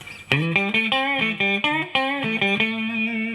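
A clean electric guitar straight into an amp plays a quick run of bright, ringing single notes up close, with no distortion and no talking.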